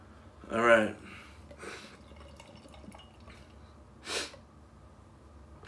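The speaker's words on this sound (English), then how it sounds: "excuse my sniffing" A few short nasal sniffs, one sharper with a throaty snort, then a quieter one and a final breathy sniff, close and fairly soft, from someone tasting a Brewery X Signature Series Pineapple Vanilla Double beer.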